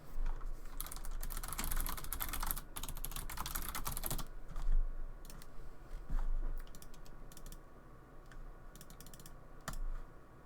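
Rapid clicky computer keyboard typing during a development livestream, dense bursts of keystrokes with short pauses and scattered single clicks, quiet and close, no voices.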